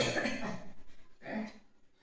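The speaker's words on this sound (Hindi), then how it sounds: "तो तुम्हें खांसी बहुत आ रही है" A patient with a fever and infection coughs during a doctor's examination. Two short, rough bursts sound close and fairly faint, with a pause between them.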